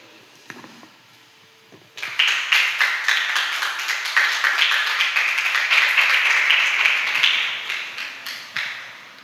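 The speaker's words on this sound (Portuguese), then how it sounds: "Pode sentar, aplauda o nome do Senhor." A church congregation breaks into loud, sustained applause after a quiet moment, many hands clapping together, then fading toward the end.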